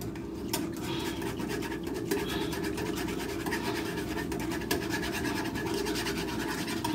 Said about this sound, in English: I'm going to use this little metal whisk that I have. Whisk that on through.